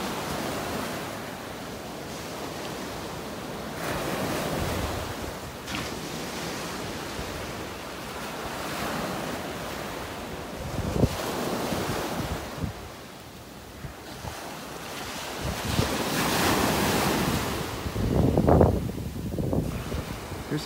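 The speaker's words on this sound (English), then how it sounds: "Maybe we can just kind of enjoy the sounds of the waves here for a couple minutes." Ocean waves roll and wash onto a beach in North Naples, Florida, a steady rushing surf with swelling breakers and some wind buffeting the microphone, with no voices.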